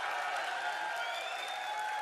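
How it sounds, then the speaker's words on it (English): An audience at the Xbox XO 2019 conference breaks into sustained applause, a dense, even wash of clapping that fills the short stretch with no pauses. "can we now get a huge round of applause for Matt Booty?"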